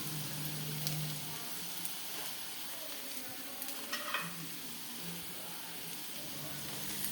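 Onions sautéing in a pan, a steady soft sizzle with intermittent spatula stirs and light scrapes, close and continuous with no talking.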